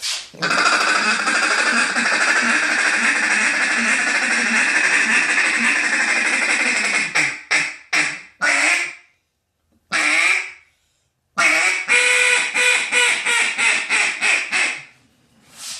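A duck call blown in rapid, rolling feeding chatter for a competition routine, loud and close, continuous at first, then breaking into choppy bursts with short pauses.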